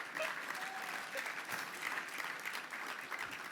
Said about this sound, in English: I'll wait for your applause on that one